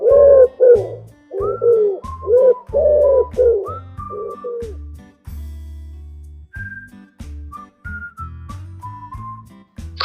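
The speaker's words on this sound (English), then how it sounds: "Pigeon." A pigeon coos in a quick series of soft, rounded calls over the first few seconds, then quieter, thinner notes trail off over a steady low backing beat.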